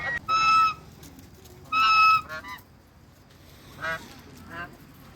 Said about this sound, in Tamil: வாத்தெல்லாம் கோழி கொட்டாயில் அடையிறதுக்கு போகுதுங்க